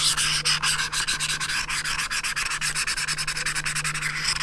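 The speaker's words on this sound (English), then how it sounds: "Take the sandpaper edge and just work this" Sandpaper works in a circular motion over the surface of a turkey call, giving a close, steady rhythmic rasp of rubbing strokes that repeat evenly throughout.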